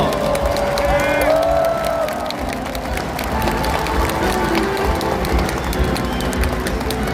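Delegates in a large hall applaud and cheer as two candidates are called onto the stage, a loud, sustained wash of crowd clapping and shouts with music or voices ringing through it.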